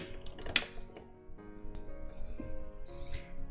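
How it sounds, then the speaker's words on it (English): Card stock feeds through a manual die cutting machine, making a close, quiet run of mechanical clicks and grinding rolls with a sharp snap near the start. "running it through our die cutting machine"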